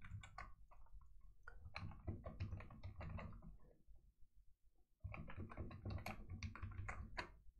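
Fingers type on a computer keyboard in quick, close clattering bursts, with a brief lull of a second or so before another fast run of keystrokes. No voices.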